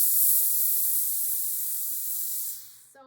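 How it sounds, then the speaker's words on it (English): A Laura Star steam iron releases micro steam onto a towel as a steady, loud hiss that runs continuously, then tapers off and stops near the end. "So I'm gonna show you the steam."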